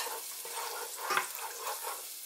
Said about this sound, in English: Mixing it all in with the anchovies and oil